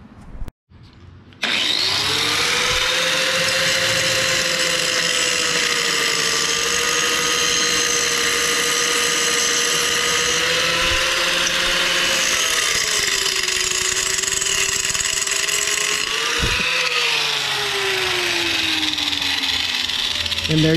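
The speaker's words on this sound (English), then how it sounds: "What I'm gonna do is I'm gonna use a grinder. I'm gonna take that off, make it smooth" An angle grinder smooths a fitting on an intake manifold during a Honda D16Y7 to D16Y8 swap, giving a loud, steady, high-pitched whine that runs for about twenty seconds. The pitch dips and rises slightly under load, with no talking.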